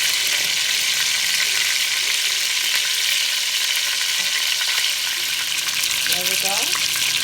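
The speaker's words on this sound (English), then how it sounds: "This is frying up some chicken that's been seasoned." Steady, loud sizzling of seasoned chicken frying in a pan for Jamaican brown stew chicken, a dense crackling hiss throughout with faint clatter near the end.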